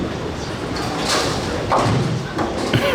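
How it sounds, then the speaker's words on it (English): A bowling strike at a Prodigy Bowlers Tour event, the ball crashing into the pins with a dull, busy clatter and thuds over noisy crowd background, followed by a short second impact. "There's the strike that Anthony's been searching for."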